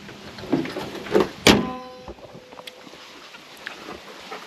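A jeep's engine hood is slammed shut, one sharp loud metallic bang with a brief ringing tail, after a couple of softer rustles and knocks nearby.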